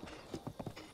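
Hooves of a horse in Breath of the Wild clip-clop in a quick, uneven run of distinct beats. They sound close and clear over faint background noise, with no voices.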